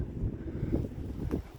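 Wind buffets the microphone with a low, constant rumble, gusting slightly, with faint rustling bumps near the end.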